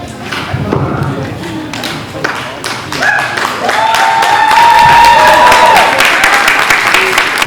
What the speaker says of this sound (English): So please applaud as much as you can.